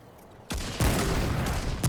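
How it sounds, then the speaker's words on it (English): A sci-fi energy weapon's explosive alternate fire in a video game, sounding as loud, close blasts: a sharp burst, then a bigger boom at once, with a rumbling tail and another crack near the end. "this one has an explosive for its alternate fire"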